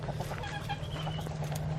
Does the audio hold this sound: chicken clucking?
yes